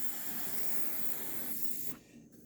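Aerosol cleaning spray hisses continuously onto an Iver Johnson 10mm 1911 pistol for about two seconds, close and steady, then cuts off abruptly.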